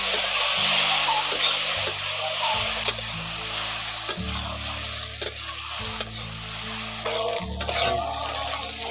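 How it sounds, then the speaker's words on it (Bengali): Egg-coated soybeans fry in a pan, a loud, continuous sizzle with repeated scraping stirs and the low hum of a burner underneath. "এবার ডিম মাখানো সোয়াবিনগুলো ওর মধ্যে দিয়ে ভালো করে ভেজে নেব।"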